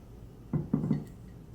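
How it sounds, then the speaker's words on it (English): A knife cuts through a loaf of pumpkin streusel bread in three short, crunchy strokes close by, with quiet pauses on either side. "then I'll make another slice"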